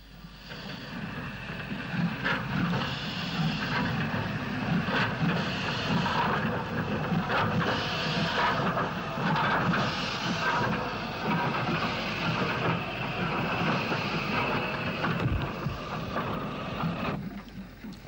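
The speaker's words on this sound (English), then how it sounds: "GNR S Class No. 63, Slieve na Mon, was recorded shunting a morning goods at Lisburn" A GNR S Class steam locomotive shunting a morning goods train at Lisburn, heard as a continuous rumbling, hissing engine noise with irregular chuffs and clanks, moderately distant and steady throughout.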